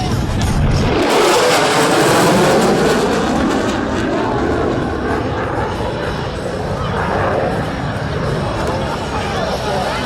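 A Boeing F/A-18 Super Hornet jet makes a high-speed pass at an air show, giving a loud, sustained roar with a rushing whoosh that fills the whole stretch as it sweeps by.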